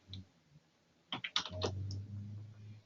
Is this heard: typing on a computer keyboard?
yes